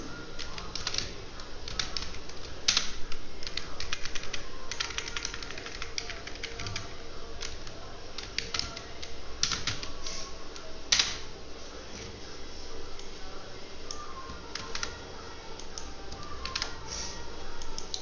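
Keys clatter continuously on a computer keyboard while entering sales data into an Excel spreadsheet, a steady, fairly close stream of clicks with a few sharper strikes over low room noise.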